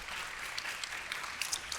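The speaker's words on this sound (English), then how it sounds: "Please give our panel a round of applause." An audience applauds a panel at a children's advocacy organization's 30th anniversary celebration: dense, steady clapping from many hands, close and even throughout with a few sharper claps standing out.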